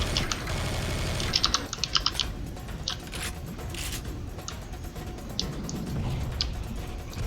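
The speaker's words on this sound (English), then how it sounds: "I need to invest in some of those O-ring things that you put under your keycaps so that my keyboard doesn't click so loudly" Loud clicking computer keyboard keys clatter in quick bursts of typing over a steady background hum, sharp and close, with pauses between flurries.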